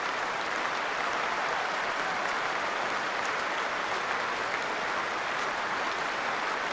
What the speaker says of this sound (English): Getting a good applause, a good smile on his face